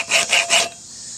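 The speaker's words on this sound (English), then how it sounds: "it cuts fairly easily with just a standard file" Standard hand file cutting into a railroad track anvil, three quick, close metal rasping strokes in an even rhythm followed by quiet.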